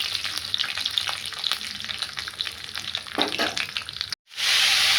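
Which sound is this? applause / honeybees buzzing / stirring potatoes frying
stirring potatoes frying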